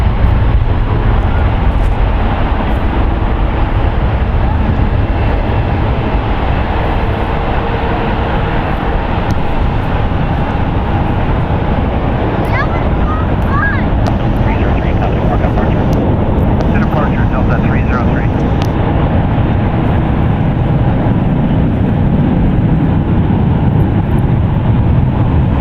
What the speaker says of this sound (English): That is Delta Airlines Flight 303 going to JFK. It's a Boeing 757-200,